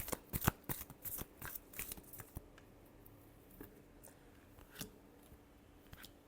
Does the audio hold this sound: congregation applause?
no